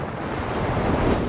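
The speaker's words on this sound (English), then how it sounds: "The waves growl and rumble ever deeper." Ocean waves growl and rumble in a deep, continuous surge, with wind noise over the low roar of the surf in a brief, steady burst.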